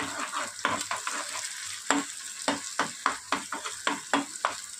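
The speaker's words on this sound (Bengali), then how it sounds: "এবার এটা একটু স্ক্রাম্বল করে দেবো" Two eggs with a pinch of salt scrambled in a pan for restaurant-style egg fried rice: a steady frying hiss broken by a quick run of sharp spatula scrapes and taps, close and fairly loud, with no talking.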